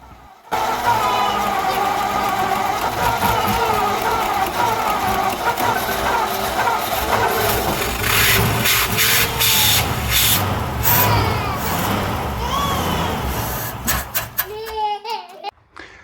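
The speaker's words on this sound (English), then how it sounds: "now that we have gotten the engine running" A 1954 Ford engine cranks and catches, then runs roughly with uneven rattles and knocks before cutting out near the end into scattered clunks.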